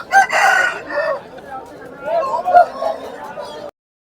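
Sipai roosters at a rural weekly market in Gokavaram crow loudly and nearby, one long cock-a-doodle-doo with a second crow following, over market chatter and background voices.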